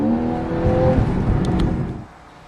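A seventh-generation Porsche 911 on a test drive gives a close engine rev that rises and holds, then drops sharply away into quiet near the end.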